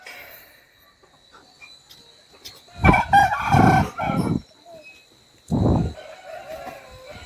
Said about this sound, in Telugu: రసంగి పుంజు